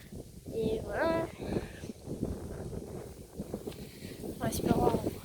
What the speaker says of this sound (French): Il y a beaucoup de vent, je sais pas si vous allez nous entendre.